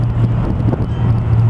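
Hard wind buffets the microphone outdoors during a rear suspension teardown, a steady low rumbling roar with gusty swells filling the whole stretch, no voices present.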